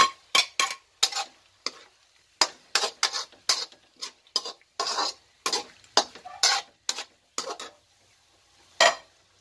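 Long green chili goes into a pan of squid adobo, followed by a series of sharp, close scraping and clinking stirs with brief sizzles, in irregular bursts separated by quiet gaps.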